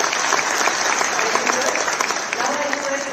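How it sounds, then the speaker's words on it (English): An audience at a chartered accountants' convocation ceremony applauds, a loud, continuous wash of clapping that fills the whole stretch, with a faint tone and some voices underneath toward the end. "I think that needs a round of applause again."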